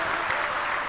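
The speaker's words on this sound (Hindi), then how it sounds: "इस संपूर्ण परिवार के लिए एक बार जोरदार ताली बजाओ" A crowd gathered for a Bhagavat Katha religious discourse breaks into loud, steady applause, with many hands clapping at once in a dense, even roar.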